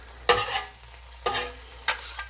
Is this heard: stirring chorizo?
yes